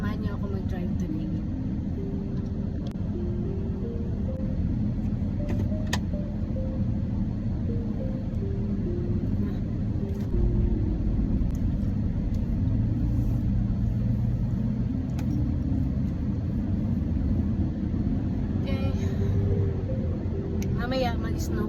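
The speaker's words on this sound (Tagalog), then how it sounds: "Samahan niyo ako mag-drive today." Steady low engine rumble and road noise from a car driving on a snowy winter road, continuous and fairly loud throughout, with faint shifting tones above it.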